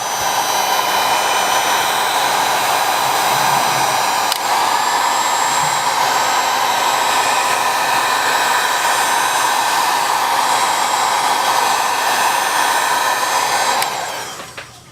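A hair dryer blows hot air onto the back cover of a Samsung S8 Active phone, a loud, steady, close whooshing roar that holds for about fourteen seconds before cutting off.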